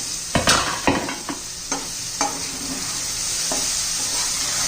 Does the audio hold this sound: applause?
no